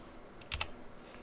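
A single key press on a computer keyboard, the M key struck during Photoshop shortcut use: two or three quick, soft clicks close together, quiet against a faint room hiss.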